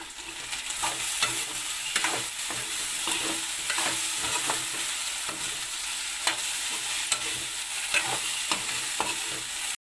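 Potatoes and lady's finger fry in a pan with a steady, bright sizzle, punctuated by repeated scraping clicks of stirring at an irregular pace, close and fairly loud with no talking.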